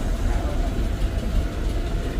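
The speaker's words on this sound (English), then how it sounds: "We are going to be boarding the train shortly." A vintage New York City subway train on a holiday nostalgia run rumbles steadily and loudly, with a dense low roar and no speech.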